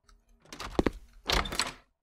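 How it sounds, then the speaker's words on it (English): In the horror video game Momo, a window slides shut in two quick bursts of rattling and a thunk, close and fairly loud. "Close all the windows and doors."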